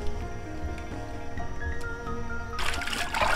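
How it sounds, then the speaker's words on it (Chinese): Bird's eye chilies are rinsed under running water, a continuous trickle and splash close by that grows brighter and louder as the flow hits them near the end. "小米辣清洗一下"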